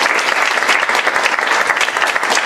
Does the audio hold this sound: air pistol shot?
no